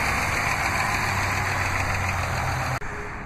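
A 2010 Dodge Nitro SE 4x4 with a 3.7-liter overhead valve V6 idles steadily, a close, even low rumble with a constant hum, briefly dipping near the end before settling back.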